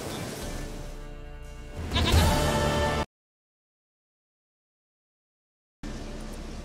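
A goat in the video game The Witcher 3: Wild Hunt bleats loudly a few times over game ambience for about three seconds. Then it goes silent before the background sound returns.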